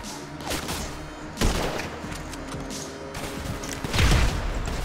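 A grenade goes off with a heavy, low blast near the end of a noisy GTA Online firefight, following a sharper crack and steady gunfire throughout.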